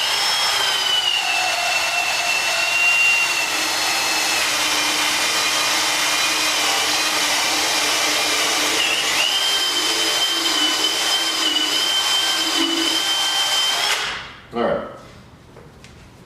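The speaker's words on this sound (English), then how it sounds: "And it'll grab a little bit when you start to drill in because it's rubber." A power drill bores steadily through a piece of rubber, its motor whining at an even, sustained pitch for about fourteen seconds before it cuts off abruptly, followed by a short handling noise; someone speaks briefly.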